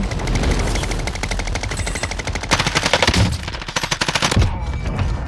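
Sustained rapid automatic gunfire from the Bruen weapon in Call of Duty Warzone, loud dense bursts of shots in quick rhythmic succession with game ambience behind.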